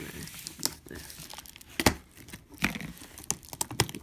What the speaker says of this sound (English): Let's break open our box.